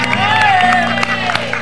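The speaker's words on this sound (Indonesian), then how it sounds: "Kasih tepuk tangan luar biasa dong buat Mas Ayu Clara." A studio audience at an Indonesian television talk show claps and cheers in a loud, continuous wash of applause, with music-like tones running beneath it.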